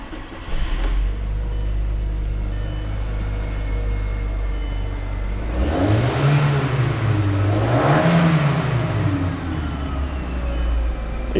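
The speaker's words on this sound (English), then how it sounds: "take footage of the car revving before and after" A car engine revs twice inside the cabin, climbing and falling in two rising swells over a steady rumbling idle, loud and enclosed.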